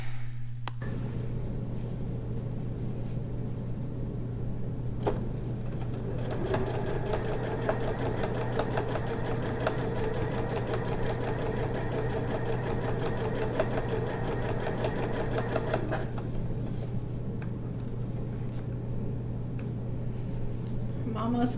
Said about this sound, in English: Almost completing the third side. I'm surprised how fast this is sewing.